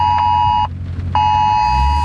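A loud electronic alert tone blares in two long steady beeps separated by a short gap, harsh and insistent.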